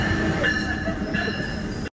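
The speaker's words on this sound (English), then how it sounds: "Right, about to get on the train." A train is heard from on board or close by, with a steady rumble, tonal whine and squeal throughout, and a voice talking over it before it cuts off.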